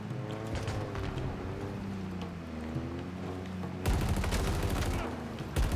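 Sustained gunfire from the Halo Infinite campaign, a dense rattle of shots over game music and mechanical noise, growing louder and harsher toward the end, with voices talking.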